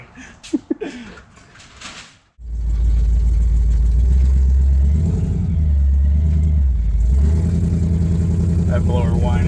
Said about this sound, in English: That blower whine is killer.